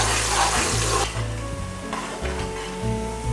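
Medium-sized sliced onion sizzling and frying in hot oil for a keema dish, a steady loud hiss with stirring noises, no talking.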